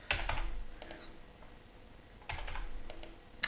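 Quick bursts of keystrokes on a computer keyboard, two short clusters of clicks separated by a quiet gap, close but soft, no talking.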